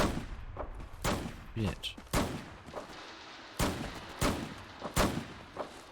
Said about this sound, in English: That's a fucking machine gun, minigun.